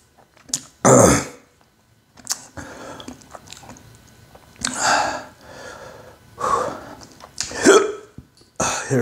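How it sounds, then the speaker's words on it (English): Hiccups come in sharp, isolated bursts, about six spread over several seconds with quiet gaps between them, close and fairly loud, with faint breathy sounds around them. "Here's the hiccups."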